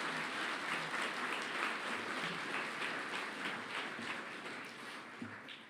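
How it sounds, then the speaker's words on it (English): Steady, dense applause from a graduation ceremony audience welcoming a piper who led the procession, sustained at an even level throughout and tapering slightly near the end, with no talking. "Now let's get things started with a big round of applause for Bob Little, our piper"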